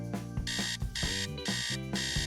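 An alarm clock rings in four evenly spaced bursts of bright electronic beeping, each about half a second long, loud and close over a low musical bed.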